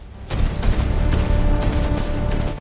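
A dense barrage of rapid gunfire erupts after a brief quiet, continuing loud and sustained with overlapping shots and rumbling booms.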